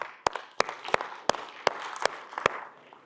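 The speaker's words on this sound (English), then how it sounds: "Give her a clap." A handful of sharp, close claps ring out at an even pace during a business talk, each one distinct rather than blending into a crowd's roar.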